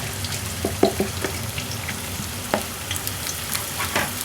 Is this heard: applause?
no